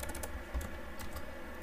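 Rapid typing on a computer keyboard during a React coding session, dense clicking keystrokes in quick bursts, close and steady throughout with no voice.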